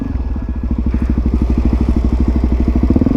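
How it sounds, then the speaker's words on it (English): Motorcycle engine pulsing hard and close while the rider sets up a wheelie, with a steady, thumping beat throughout. "You wanna see a wheelie?"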